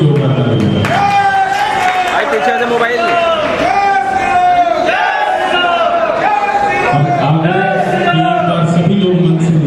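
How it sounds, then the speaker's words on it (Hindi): A crowd at a Vishwa Hindu Mahasangh gathering at Kalkaji temple cheers loudly, with repeated voiced shouts and chant-like calls rising over one another throughout. "उनके लिए भी जोरदार ताली होगा।"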